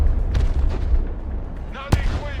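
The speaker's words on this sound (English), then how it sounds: "Oh, that artillery." Artillery fire in the war game Broken Arrow, in the city of Narva: a low, steady battle rumble broken by one sharp, loud boom near the end, with a voice briefly audible just before it.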